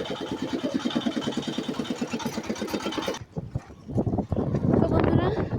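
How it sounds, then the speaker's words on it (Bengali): A gas cylinder delivery truck arrives, its engine making a loud, rhythmic chugging that pulses steadily for a few seconds before the sound shifts to mixed street noise and voices. "গাড়ির প্রচণ্ড আওয়াজ ছিল, তখনই একটা গ্যাসের গাড়ি ঢুকলো"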